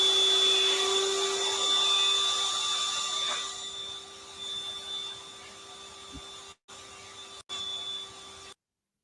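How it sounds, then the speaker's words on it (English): A vacuum cleaner runs unattended in a haunted-house setting, a steady tonal whine and motor hum sustained for about eight seconds, briefly cutting out twice near the end before stopping. "A vacuum cleaner spins out onto the floor and turns on by itself"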